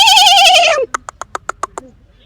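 A man imitates a horse, first with a long wavering whinny-like cry, then a quick run of about seven short snorting bursts trailing off.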